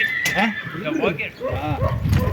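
A mare whinnies close by in a quavering neigh, with people talking at the same time.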